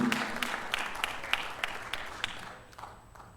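A church congregation claps in a loose, even rhythm to welcome the pastor, moderately loud and roomy, fading toward the end.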